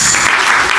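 A church congregation applauding during a worship service makes a loud, dense, continuous clatter of many hands clapping together, close and sustained throughout.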